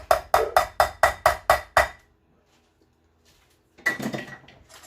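Pistachio pudding mix stirred in a bowl: seven quick, evenly spaced strokes, then a pause of near silence before a softer burst of mixing resumes.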